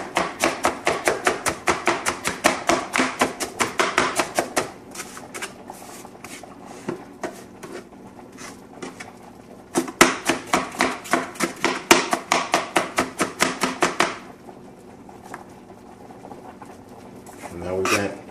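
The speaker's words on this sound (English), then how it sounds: "Now, let's say I want to chop these apples up finer than what they are." Knife mincing apples on a cutting board, quick steady runs of rapid chops in two long bursts separated by a brief pause, close and crisp.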